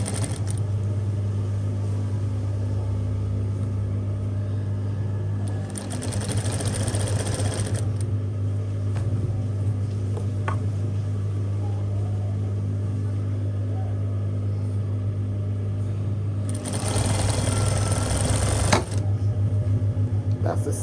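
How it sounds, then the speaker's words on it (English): A sewing machine runs steadily while sewing a mattress cover, giving a continuous low mechanical hum and whir, with two louder, busier bursts of stitching partway through and near the end. "That's the sound of the bobbin."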